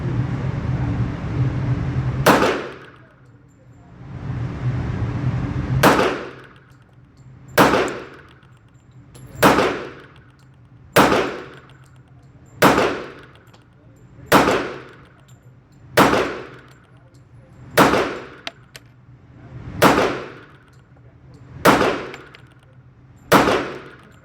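A stainless Bul Armory SAS II Tac Commander .45 ACP pistol fires at steel targets: about a dozen loud, evenly paced shots, each followed by a ringing metallic clang, over a low background rumble.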